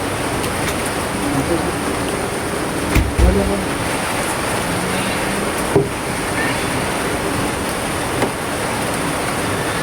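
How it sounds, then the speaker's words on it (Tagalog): A steady, heavy wash of rain with wind fills the scene, with a few faint thumps and knocks breaking through now and then. "malakas pa rin po ngayon dito ang Ulan. ulan at saka hangin"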